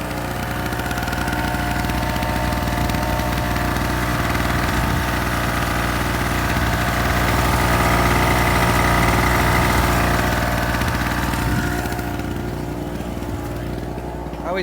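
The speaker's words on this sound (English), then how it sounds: "The generator doesn't sound like it's taxed at all when it's running about 500." A Harbor Freight two-stroke portable generator idles lightly loaded, a steady buzzing engine drone held close and loud throughout, easing slightly near the end.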